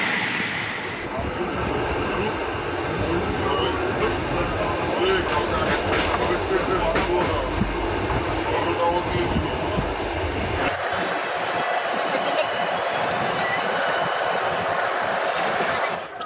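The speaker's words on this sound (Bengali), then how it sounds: "আমাদের ট্রেনটিও তার গন্তব্যের উদ্দেশ্যে রওনা দিয়েছে।" Passenger train running on its way after departing, a steady loud rumble and rattle of wheels and carriages throughout, with a change in tone partway through.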